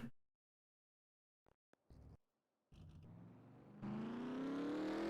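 Race car engines in NASCAR Racing 2003 start up after near silence with a few clicks and brief bursts, then settle into a loud, steady rising rev that grows toward the end.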